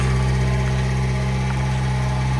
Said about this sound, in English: It is a 660cc four-cylinder carbureted engine, and from the factory it made about 34 horsepower peak.